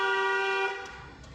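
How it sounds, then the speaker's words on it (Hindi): A car horn sounds one long, loud steady honk from the car being driven during a driving lesson, then cuts off abruptly and leaves quiet road noise. "लॉन्ग हॉर्न पुश करो।"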